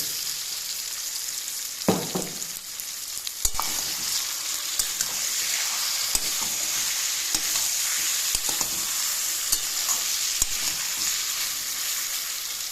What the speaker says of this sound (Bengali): তো দেখো, পেঁয়াজ আমার ভাজা হয়ে গেছে। এবার মাংসটা দিচ্ছি এর মধ্যে।